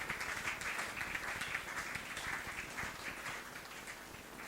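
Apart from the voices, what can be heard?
congregation applauding in church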